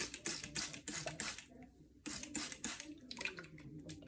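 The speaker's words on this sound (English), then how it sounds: "spraying water on my hair." Bursts of fine water mist from a spray bottle onto hair being set in twists, several quick hissing pumps in a loose rhythm, close and fairly soft.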